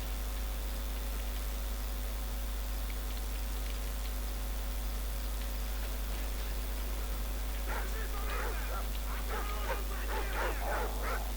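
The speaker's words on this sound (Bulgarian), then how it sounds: "Ужас, кучета." Dogs bark and yip in a burst of short calls toward the end, over a steady mechanical hum, in the video game Call of Duty 4: Modern Warfare.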